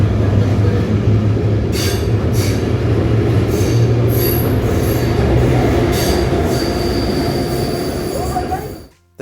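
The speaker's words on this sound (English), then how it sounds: "This train here is top and tailed by two NS Class 186 electric locomotives." An NS train top and tailed by two Class 186 electric locomotives departs, a loud, steady rumble of wheels and rail with faint squeals, fading sharply at the end.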